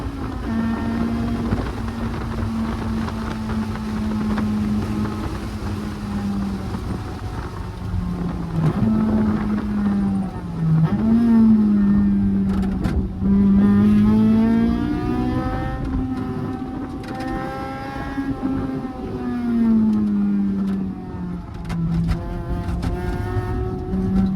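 Onboard engine sound from a Honda S2000 on a race track, a loud, sustained drone rising and falling in pitch through gear changes, with wind noise over the microphone.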